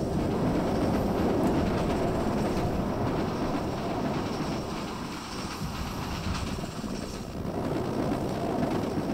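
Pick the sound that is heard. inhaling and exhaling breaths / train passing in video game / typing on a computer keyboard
train passing in video game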